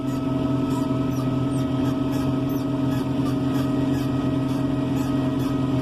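Fendt 410 Vario tractor engine at lower revs, around 1300 rpm while cruising at about 40 km/h, a steady droning hum with strong constant tones, recorded from inside with faint rhythmic ticking on top.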